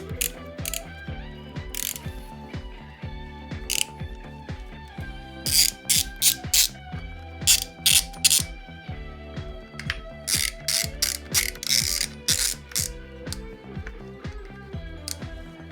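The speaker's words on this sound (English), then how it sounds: "adapters for the battery terminals using a T30 Torx bit. Take them off the old battery, put them on the new battery." A ratchet fitted with a T30 Torx bit clicks through rapid, uneven bursts while removing the battery terminal adapters on a BMW i3 12V battery. The clicks are close, crisp and continuous throughout, with no talking.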